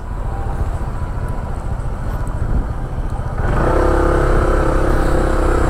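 A motorcycle engine on a flooded street in Baseco rumbles at a steady idle, then revs up and holds a louder, rougher drone close by.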